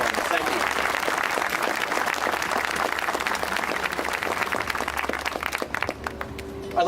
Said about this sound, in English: If everyone can give them a big round of applause.